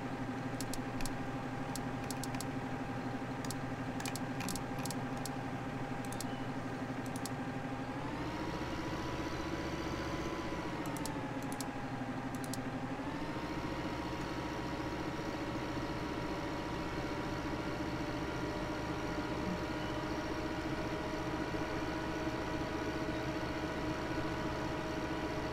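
A small tractor in Farming Simulator 15 drones steadily under too heavy a load, its engine pitch rising briefly then settling, with faint clicks and no talk.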